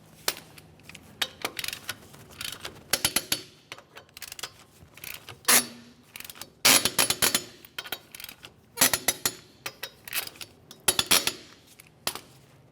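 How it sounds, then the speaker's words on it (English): Lug nuts on a 2005-2010 Chevrolet Cobalt wheel tightened with a torque wrench: close, irregular bursts of sharp metallic clicks and clinks in clusters, separated by quiet gaps. "Now we can torque the lug nuts to 100 foot-pounds."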